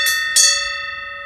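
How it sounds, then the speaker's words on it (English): A cricket ground bell rung by the umpire to start play gives two clear metallic strikes in quick succession, loud and close, each leaving a sustained ringing tone that slowly fades. "at the start of play, they normally have a bell which they can ring."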